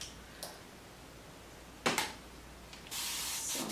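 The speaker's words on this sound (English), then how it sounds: "Going to spray a little bit of water" A few quick sprays from a bottle, a short burst then a longer hissing spray near the end, otherwise quiet.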